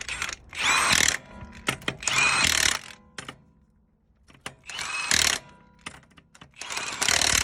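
Bolts tightened with a Merrick gripping socket give repeated bursts of ratcheting and mechanical clatter, close and fairly loud, separated by short pauses.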